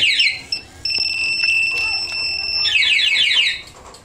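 Loud, close warbling siren sweeps from a MIOGEAR motorcycle anti-theft alarm alternate with steady high electronic tones, switching back to rapid sweeps before cutting off near the end.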